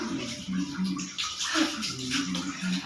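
Water splashes and pours while an elderly woman is bathed, a close, continuous washing and sloshing sound with soft splashes, accompanied by faint voices in the background.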